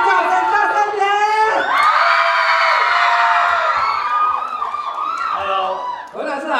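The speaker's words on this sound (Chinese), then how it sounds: "我们掌声大声点。" At a fan meet-up for the top five singers of a televised singing competition, a loud crowd cheers and shouts with high-pitched screams throughout, close and sustained and briefly dipping near the end.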